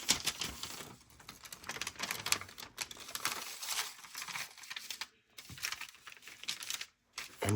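Piano roll paper being folded and creased around an envelope, close crinkling and rustling in short bursts with brief pauses, no one speaking.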